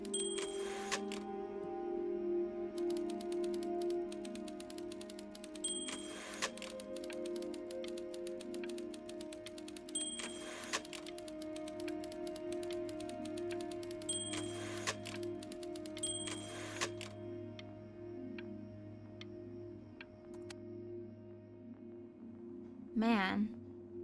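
Typewriter keys clack in irregular bursts in the video game Before Your Eyes, with occasional carriage bell dings over a sustained musical drone and a voice speaking.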